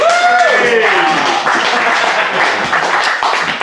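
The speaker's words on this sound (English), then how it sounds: "Round of applause, please." Audience applause and cheering at a live comedy show, dense and loud throughout, with a few whoops and voices calling out over the clapping.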